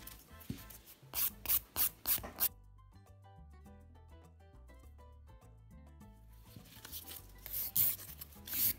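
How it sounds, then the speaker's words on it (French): A nail file rasps around the cuticle edge of an acrylic gel nail in several short, close strokes, pauses while soft music continues, then returns with more brisk, scratchy filing. "Ensuite, je vais limer le contour de la cuticule."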